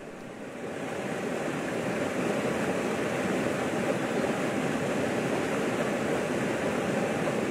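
A small waterfall on a mountain river rushes in a steady, dense roar that swells in the first second and then holds evenly, loud and close, with no voices.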